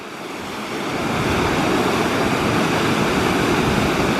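Kettle Falls rapids on the Berens River roar as a steady, broadband rush of falling water that swells in the first second, then holds loud and continuous.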